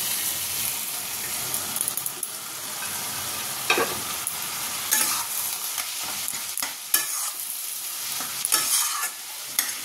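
Dal poured into a sizzling tarka and stirred, a strong steady frying hiss broken by wet splashy bursts and spatula scrapes against the pan, close and loud, no one talking.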